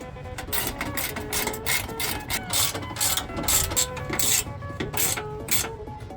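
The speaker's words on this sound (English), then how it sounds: "grab your 13mm and tighten all the way" Ratcheting, rasping strokes from a 13mm wrench tightening the bolts on a budget rear tube fender of a Jeep, a steady run of close, repeated clicks and scrapes with no talk.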